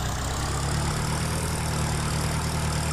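A tractor engine idles in Farming Simulator 2013, giving a steady low mechanical drone with a constant hum underneath. It plays on its own at an even, moderate level.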